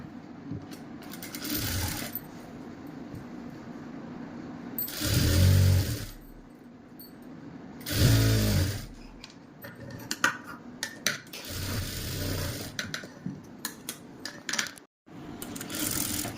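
A sewing machine stitches a kurti seam in loud bursts of rapid mechanical whirring, separated by quieter pauses with small clicks and handling noises.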